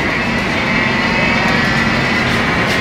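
A racing kart engine accelerating at a Supernats kart race in Las Vegas gives a loud, steady, buzzing roar that fills the whole moment without a break, with no talk over it.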